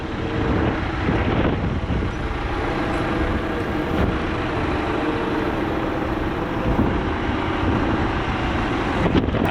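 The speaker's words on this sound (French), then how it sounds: "je vais avancer le tracteur." A tractor's steady, heavy engine drones close by on a farm for the whole stretch, a low mechanical rumble with a few faint clanks, no voices.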